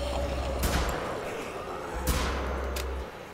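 Shotgun blasts in Wolfenstein: The Old Blood, three loud, sharp booming shots spaced about a second apart over a low rumbling background.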